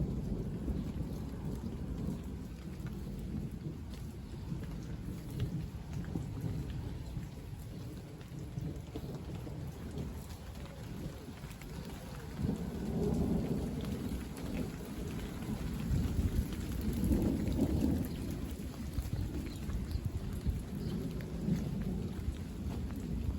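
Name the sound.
thunderstorm with rain and a loud thunderclap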